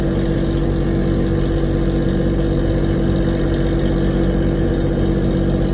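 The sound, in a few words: RoRo ship engine while reversing in port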